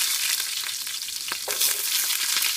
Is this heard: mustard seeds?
yes